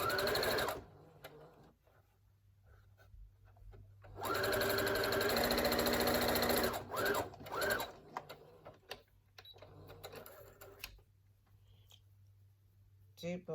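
A serger stitching the edges of a fabric face mask whirs in quick, close bursts, with a long sustained run midway, while a person talks quietly between the runs.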